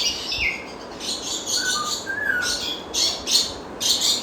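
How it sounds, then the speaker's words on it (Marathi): Small birds chirp and tweet near the water at KSR Global Aquarium in Sawantwadi. Short, bright calls repeat at close range over a quiet background hum, with no voices. "किती सुंदर हे पक्षी"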